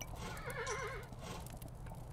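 Horse in the video game Kingdom gives a wavering whinny over a steady background of game music and hooves, clear but mid-level, with no talk.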